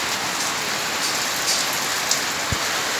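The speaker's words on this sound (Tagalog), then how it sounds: "Umuulan po na, no?" Steady rain falls outdoors as a dense, even hiss of drops on surfaces, with a couple of louder nearby drips and no voices.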